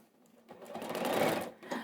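A sewing machine stitching fabric, a short run of rapid needle chatter that rises out of near silence, holds briefly, then dips and picks up again at the end.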